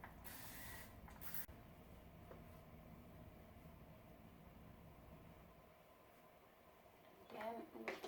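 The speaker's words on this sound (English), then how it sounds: "I'm going to spray a little bit of water." A spray bottle mists water onto damp hair in a couple of quick hissing bursts near the start, then quieter handling noises and faint room sound follow, with another rustle at the end.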